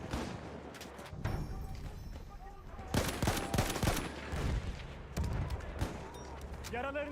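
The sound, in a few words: enemy machine gun fire in a video game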